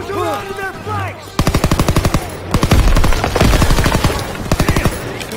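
Rapid machine gun fire in the Call of Duty WWII video game, loud repeated bursts of sharp shots with brief gaps, continuing to the end.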